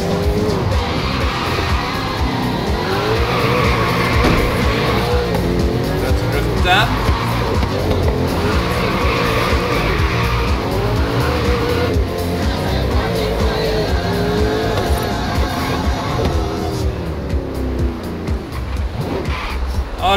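Engine roar of a Bugatti racing in Forza Horizon 3, with loud continuous revving that rises and falls through gear shifts and occasional tire skids, while a person talks over it throughout.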